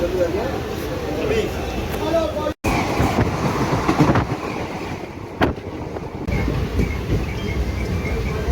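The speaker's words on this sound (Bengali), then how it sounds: "लोकल प्लेटफॉर्म क्रमांक 2 पर आ रही है" A local train rolls in toward platform 2 at a busy Indian station, its rumble steady and fairly close beneath a Hindi platform announcement and people talking nearby.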